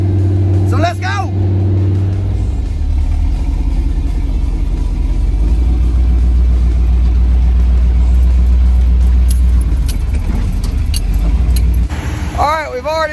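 A GMC Jimmy with a transmission problem starts up at a classic car show: a loud rumbling engine runs and pulls away, keys jingle at the start and end, and people talk over the noise.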